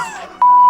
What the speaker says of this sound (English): pay attention to that sensor beep sound that you just heard